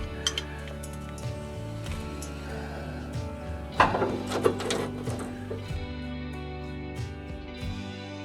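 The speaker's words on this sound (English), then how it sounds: "Let me get my grates put back in here" Metal grill grates go back into a Char-Griller 980 grill, producing a series of close metallic clinks, scrapes and rattles with a louder clatter midway through.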